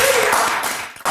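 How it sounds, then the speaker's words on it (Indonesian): A studio audience claps for a guest on a talk show, a dense burst of applause that fades out over about a second before a sharp final hit. "Tepuk tangan buat Mas Iksan."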